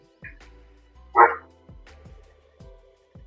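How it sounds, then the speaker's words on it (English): A dog barks several times in short, sharp bursts spaced across the clip, fairly close, with a brief louder yelp in the middle. "the dog was barking"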